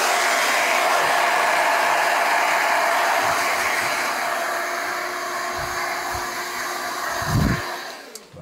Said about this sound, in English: Finish off with some cold air just to blast all this hair out.